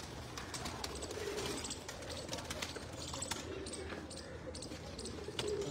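Pigeons coo faintly and repeatedly against a busy background of scattered knocks and taps, the low murmuring calls running steadily throughout.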